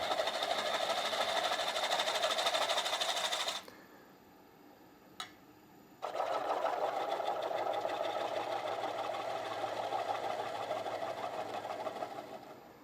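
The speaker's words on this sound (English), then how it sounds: "I like using the vacuum pump when you see it" A vacuum pump in a woodturning workshop drones steadily and close, cuts out for a couple of seconds with a single short click in the quiet, then starts again and runs evenly to the end.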